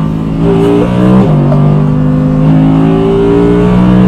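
A loud, powerful Audi R8 V10 engine revving close by, rising in pitch, dipping briefly, then holding a steady high drone.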